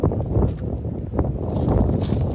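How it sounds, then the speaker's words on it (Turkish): Strong wind buffets the microphone outdoors at a beehive yard, a steady loud roaring rush with gusty swells throughout and no talk. "hava çok esiyor"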